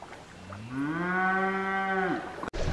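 A cow lets out a single long, loud moo close by that swells and then cuts off, followed by a brief knock.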